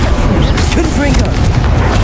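A Confringo fire-blast spell detonating during a duel in the video game Hogwarts Legacy: a loud, rumbling boom with crackling burst noise and a brief voice underneath.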